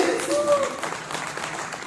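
Audience applause at a film teaser launch event, a brief wash of clapping from a crowd, moderately loud and continuous with no pauses.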